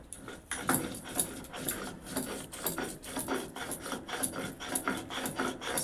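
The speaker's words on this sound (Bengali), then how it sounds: "শিল লড়া দিয়ে মশলা বেটে রান্না করলে তার স্বাদই খুব আলাদা" Spices ground on a stone shil nora slab, a steady rasping scrape of stone on stone repeating in even back-and-forth strokes, close and continuous with no talk.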